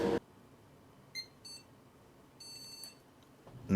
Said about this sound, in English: Not a happy beep.